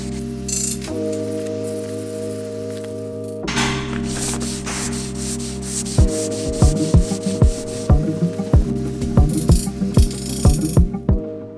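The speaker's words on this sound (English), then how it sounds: "That's both pods sanded fully down now." Sanding block with 400-grit paper rubbing over painted side pods on a Renault Trafic camper van, a steady close scratchy rasp in long continuous strokes with brief pauses, later joined by repeated sharp taps and knocks.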